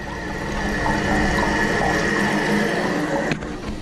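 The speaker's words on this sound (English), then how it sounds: "Then it'll refill." Toilet tank refilling after a flush through a newly replaced flush valve, a steady close rush of water with a pump-like hiss and a faint whistle that runs continuously and then drops briefly near the end.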